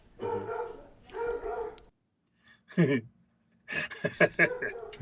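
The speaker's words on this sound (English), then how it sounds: "Dogs are going nuts." Dogs bark in a few scattered bursts at a moderate distance, with quieter gaps and some yipping between them.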